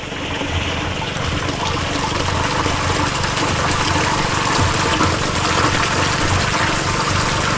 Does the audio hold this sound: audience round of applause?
no